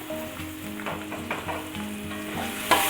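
Tomatoes and curry masala sauté in a pan for a hyacinth bean masala fry, giving a steady close sizzle with scattered stirring scrapes and a sharper clatter near the end, while faint tonal background sounds run underneath.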